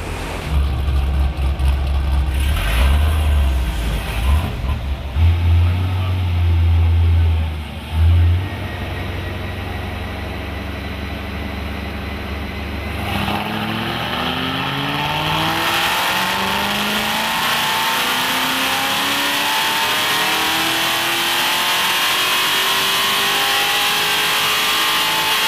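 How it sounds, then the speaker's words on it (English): A Hennessy HPE 650 tuned car revs hard on a dyno, the engine climbing in pitch through rising sweeps to a loud, sustained high-rev roar that fills the room. "First up is the Hennessy HPE 650."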